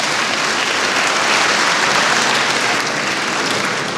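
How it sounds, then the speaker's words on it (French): An audience applauds the minister of culture at a Malian musical theatre event at UNESCO in Paris. The clapping is dense and sustained, a steady wash of many hands lasting throughout without a break. "Applaudissez quand même le ministre de la Culture."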